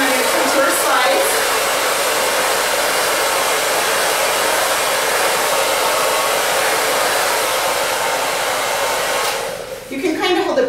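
A hair dryer blow-drying hair with a brush, a loud, steady, close roar of rushing air that runs almost continuously before cutting off near the end.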